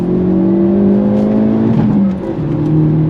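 A 2023 Hyundai Elantra N accelerates hard on throttle, its engine note loud and close with a steady rising drone and no talk over it.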